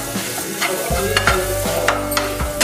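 Moong dal kachori filling stirred in a pan over medium heat, a spoon scraping and knocking against the metal in repeated strokes over a soft, continuous sizzle.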